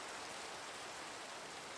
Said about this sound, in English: Let's get rid of this rain. It's really loud.